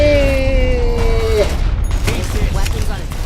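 A big gun fired in Fallout: New Vegas: a loud blast and crackling reports after a rising tonal whine, heard over a heavy low rumble and some talk.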